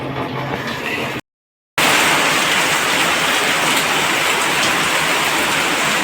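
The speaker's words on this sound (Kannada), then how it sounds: "ನೋಡಿ ಉಡುಪಿಯಲ್ಲಿ ಯಾವ ಥರ ಮಳೆ ಆಗ್ತಾಯಿದೆ. ಜೋರು ಮಳೆ ಇದೆ, ಫುಲ್ಲು ಮಳೆ" Heavy morning rain pours down in Udupi, a loud, dense, continuous roar of drops close by, cut by a brief total silence before resuming just as strongly, with no voices.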